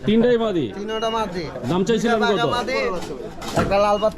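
Pigeons coo at the Sarulia pigeon market in Bangladesh, soft throaty calls mixed into a steady stream of close, loud talk between buyers and sellers.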